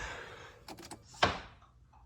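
A few soft clicks and rattles, then one solid thud as a 2019 Audi Q5 door shuts nearby, followed by quiet.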